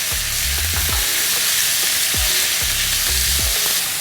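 Beef and garlic stir-frying in a hot pan for a keto water spinach salad, a steady loud sizzle with several sharp stirring clanks and scrapes, no talking.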